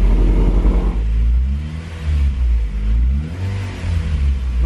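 A Honda Civic Si engine idles at low RPM during break-in on conventional oil, a steady low rumble with a brief higher rev at the start, close and continuous, with the car sitting half on a garage lift.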